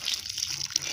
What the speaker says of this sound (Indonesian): Lalu siram dengan air minimal 2 kali sehari.